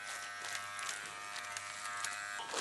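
A wireless EZ P2 Epic rotary tattoo machine runs steadily near the mic, giving off a continuous electric buzz with a high whine and no talking.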